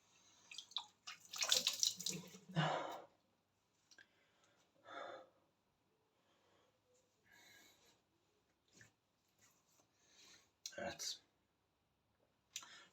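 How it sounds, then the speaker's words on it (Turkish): Water splashing from a tap as hot water is used to wash a face during an evening shave, intermittent bursts of running and splashing with quiet gaps and faint clicks between them. "Yüzümü bir kez daha yıkayacağım sıcak suyla."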